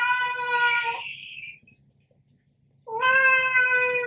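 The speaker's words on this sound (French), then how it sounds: "Mes petits chats, tais-toi." Cats meow indoors, two drawn-out, close, clear cries separated by a pause of near silence.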